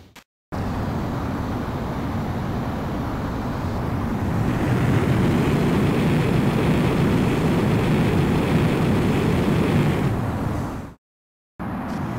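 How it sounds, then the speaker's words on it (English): An X-29 jet taking off in the video game Ace Combat X, a steady loud engine roar that swells and thickens partway through, holding a continuous rushing whine before cutting off abruptly. "You are cleared for takeoff."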